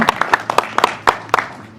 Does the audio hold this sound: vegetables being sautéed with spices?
no